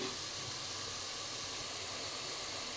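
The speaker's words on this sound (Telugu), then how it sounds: "చూడండి, ఉల్లిపాయలు అయితే వేగుతున్నాయి కదా" Onion paste frying in a pan while cooking an egg omelette curry, a steady broadband sizzle and hiss that holds evenly and fairly loud throughout with no break.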